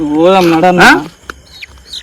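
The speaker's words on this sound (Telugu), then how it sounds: "కోడిని కూడా పెట్టింది, నల్ల కోడిని." A black chicken gives one loud, close, drawn-out cluck that rises at the end, followed by faint scattered clicks and quiet rustling.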